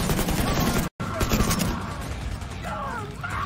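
Gunfire in the video game The Division 2, rapid bursts of shots throughout, loud and close, with a brief dropout in the audio.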